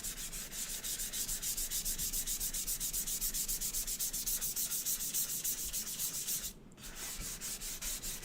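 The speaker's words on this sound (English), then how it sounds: "kind of hit this a little bit with a sanding pad just to tone down those guidelines a little bit" Hand sanding a wood birdhouse with a worn 400 grit sanding pad, a steady, close rhythmic rubbing of even back-and-forth strokes with one brief pause near the end.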